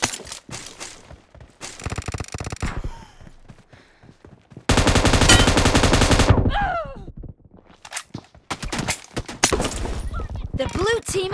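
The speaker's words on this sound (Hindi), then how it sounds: "इधर से गोलियां पड़ रही" Bursts of automatic gunfire in a BGMI Domination match, including one long sustained volley, with scattered shots, game effects and a voice talking in between.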